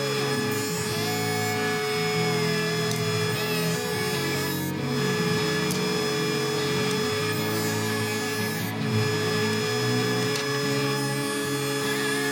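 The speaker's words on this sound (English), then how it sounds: "I'm just going to set the rebater up that's got carbide cutters and just use it a bit like a planer" Rebater with carbide cutters, used like a power planer, trimming a thin edge off a solid oak shelf: a steady loud high-pitched motor whine with cutting noise, constant throughout with a couple of slight dips.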